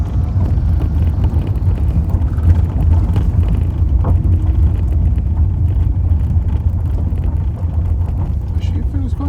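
Inside a moving VW Golf Mk4 with a 1.4 engine, a steady low engine drone and road rumble fill the cabin, mixed with wind buffeting, loud and continuous throughout.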